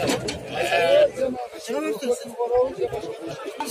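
Sheep bleating at a livestock market in Kurshab, with several loud, close bleats over a crowd's chatter and a voice talking nearby.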